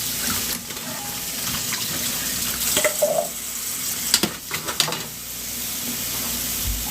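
Blueberries being rinsed under a running kitchen tap, a steady broadband water rush with a few brief clinks and splashes as the berries shift, no talking.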